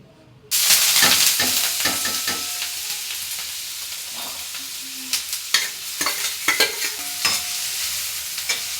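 Loud sizzling erupts as onion and tomato hit hot oil to temper cooked dal, followed by continuous frying with repeated scraping and clinking of a spoon stirring the pan.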